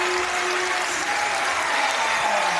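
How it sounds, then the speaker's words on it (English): A basketball crowd gives a standing ovation after a women's FIBA 3x3 World Cup semi-final between China and Australia, a dense, steady roar of clapping and cheering held at high level throughout with no break. "They're getting a standing ovation from the crowd here"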